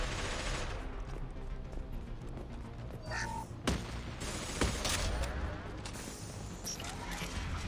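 Dense sustained gunfire in a Mass Effect 2 battle against Krogan enemies, loud and continuous throughout with sharp louder shots standing out and a faint bird-like cry partway through.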